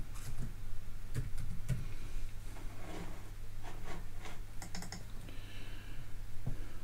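Typing on a computer keyboard, a run of soft clicking keystrokes with a few sharper taps, close by, over a steady low hum and with no talk.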